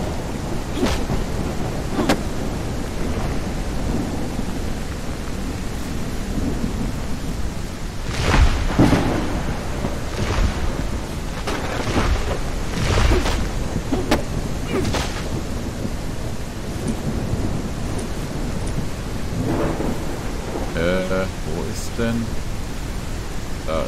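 A thunderstorm rages in the video game No One Survived: a steady roaring wash of rain with deep thunder rumbles and cracks rising above it, and a voice now and then under the storm.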